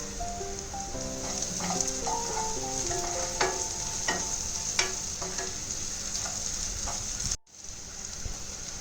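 Sliced onions with a little salt sizzling in a pan for South Indian rasam, a steady crackling fry with scattered sharp pops and a stirring scrape, close and alone, briefly cut near the end.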